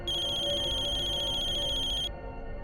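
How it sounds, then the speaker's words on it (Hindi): A telephone rings with a bright, electronic trill repeating steadily for about two seconds, then cuts off, heard over low background music in a TV crime drama scene. "तुम्हारा फोन।"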